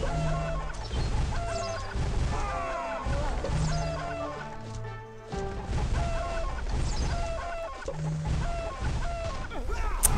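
A hen clucks in the video game What The Hen, with short clucking calls mixed among layered game music, thumps and crash effects, while a player's voice talks intermittently.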